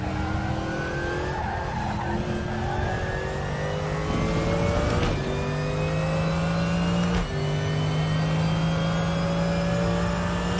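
GT3 race car engine lapping the Nordschleife in RaceRoom, loud and steady with rising revs, gear shifts around four, five and seven seconds, and some tire scrub, with no voices.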